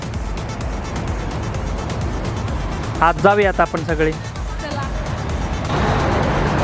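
Car traffic and a crowd outside the Vashi CIDCO Exhibition Centre make a constant rumble and murmur, with a close voice speaking over it partway through and the noise swelling slightly at the end.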